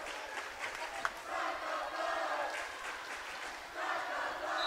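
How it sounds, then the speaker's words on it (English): Crowd at a high school volleyball match chanting in a loud, steady, rhythmic roar that fills the gym for several seconds, with a few scattered shouts. "Crowd chanting, "Start the bus.""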